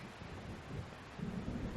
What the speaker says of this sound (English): I just really hate thunder.